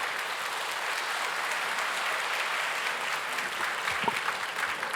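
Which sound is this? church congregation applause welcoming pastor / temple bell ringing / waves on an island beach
church congregation applause welcoming pastor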